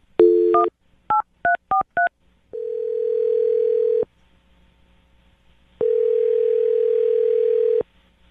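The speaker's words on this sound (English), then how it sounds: "I'm going to dial his phone number right now." A run of telephone keypad tones, short paired beeps in quick succession, then two long steady ringback tones separated by silence.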